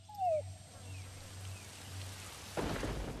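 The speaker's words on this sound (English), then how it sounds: "our intel unit is reporting rain approaching our vicinity." Steady rain hisses over a low rumble in the video game Metal Gear Solid V: The Phantom Pain, with a short tonal sound early on, then the rain grows heavier and louder near the end.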